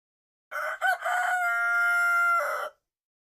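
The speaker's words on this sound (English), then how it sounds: "Rooster." A single loud rooster crow, close and clear, a long drawn-out cock-a-doodle-doo lasting about two seconds.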